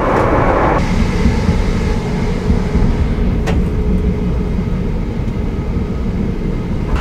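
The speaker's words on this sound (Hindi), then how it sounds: "आपको आवाज़ आ रही होगी और क्या ट्रेन हमारी अब भाग रही है" The Heathrow Express train rolls along at speed between Heathrow Airport and Paddington with a loud, steady rumble and rushing noise heard from inside, plus a brief clatter near the start.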